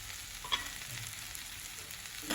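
Pre-fried potatoes stirred into masala frying in a pan for an aloo bhindi fry, a soft continuous sizzle with a spatula scrape near the start and a louder burst at the end.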